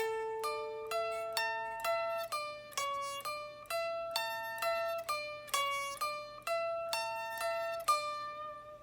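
A clean electric guitar plays the lead line of a song, plucked single notes in a steady rhythm, close and unaccompanied, with notes ringing briefly.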